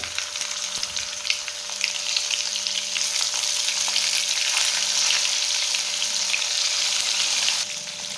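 Eggplant pieces fry in a pan of oil with cumin and asafoetida, giving a steady, loud broadband sizzle that holds for several seconds before easing slightly near the end.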